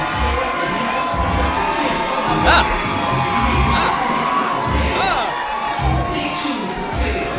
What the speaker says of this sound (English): a crowd going wild for the Midnight Marauders